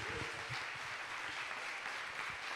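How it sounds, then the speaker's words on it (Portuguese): A church congregation claps during a Sunday school service, a steady and fairly soft round of applause filling the room for a couple of seconds with no voices over it. "Pode aplaudir ao Senhor."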